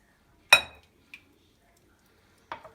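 Ingredients for savory shortbread-style cookies being mixed in a kneading bowl: a sharp clatter of utensil against the bowl, then a small clink and a later scraping knock, with quiet pauses between.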